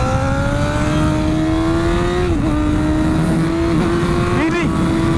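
Onboard MotoGP motorcycle engine lapping the Misano circuit, a loud sustained high-pitched drone with brief dips and blips as it shifts and brakes, while someone talks over it.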